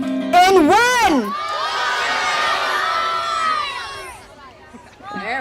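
A crowd at a Fridays For Future teach-in in Toronto shouts together as loudly as it can, a sustained roar of many voices. A single voice rises and falls just before it, and another voice follows after.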